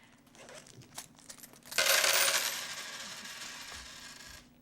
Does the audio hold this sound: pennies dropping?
yes